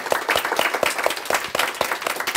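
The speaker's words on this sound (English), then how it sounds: "So let's first give a round of applause to our great panelists." Audience applause for panelists at a civil-liberties discussion on racial profiling, fairly close and lively with distinct individual claps standing out from the dense clapping.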